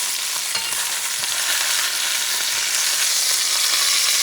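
Pot roast sears in a hot pan, a steady broadband sizzle and crackle of frying meat that stays loud and even throughout, with no voices.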